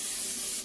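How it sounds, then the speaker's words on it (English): Non-stick cooking spray hissing onto a foil-lined baking tray in a home kitchen, one steady close burst of spray that fades at the end. "now I'm gonna just spray"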